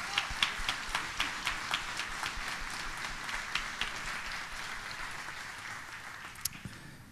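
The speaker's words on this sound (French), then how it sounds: "une bonne main d'applaudissement pour nos juges" Applause for the judges at an awards gala: an audience claps steadily with rapid, overlapping claps that sound fairly distant and soft, gradually thinning out toward the end.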